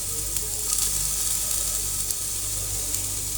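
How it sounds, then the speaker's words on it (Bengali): Grated carrot frying in ghee for carrot halwa gives a continuous, close sizzle with a bright crackling hiss and faint stirring underneath, and no one speaks. "হয়ে গেছে ঘিতে ভাজা"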